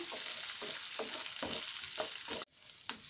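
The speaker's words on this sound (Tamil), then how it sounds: "ஸோ வெங்காயம் ஜஸ்ட் இப்போ நமக்கு ஒரு பாதி அளவு நல்லா வதங்கட்டுங்க" Onions sauté for chutney in a pan, a continuous close sizzle broken by regular scraping strokes of a spatula, about one every half second, before the frying suddenly quiets near the end.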